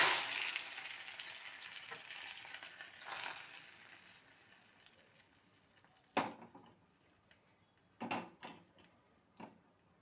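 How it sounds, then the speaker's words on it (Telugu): Mustard seeds, cumin, dried red chillies and coriander seeds tempered in hot oil and poured into a boiling dish, giving a loud sizzling burst that fades over a few seconds, followed by a few sharp clinks of pots and utensils. "ఇంకా మరిగే దాంట్లో ఆవాలు, జీలకర్ర, ఎండుమిర్చి, ధనియాలు పోపేసుకొని దీంట్లో పోసేస్తున్నాను నేను."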